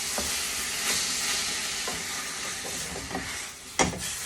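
Onion, garlic and chili sizzle and fry in a hot pan on a gas burner, a steady hiss broken by stirring scrapes and a sharp clatter near the end, with no talk.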